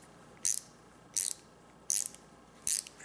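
Kobalt ratcheting screwdriver clicking through its ratchet in four short, crisp bursts spaced roughly evenly, close and fairly quiet, with no voices.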